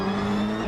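A rallycross car at a Global Rallycross round at Atlanta Motor Speedway roars steadily as its wheels spin on gravel, a loud, close, sustained engine note.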